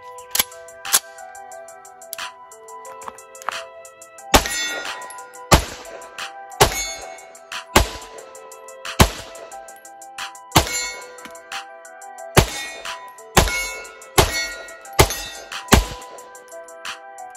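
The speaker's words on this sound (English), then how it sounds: "we're going to start the day with the Rock Island Tac Ultra with my 360 Tactical Solutions grips" Rock Island Tac Ultra pistol shots at an outdoor range, loud sharp reports fired singly and in quick pairs and strings, with ringing metallic clangs of steel targets after many shots and no talk.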